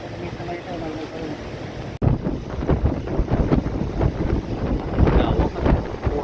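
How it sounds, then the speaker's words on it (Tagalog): Heavy wind batters the microphone aboard a boat on open, choppy water, a loud, rough roar that surges after a sudden cut. Voices are heard talking under the gusts. "Lakas ng hangin, oh. Kala mo bagyo, no?"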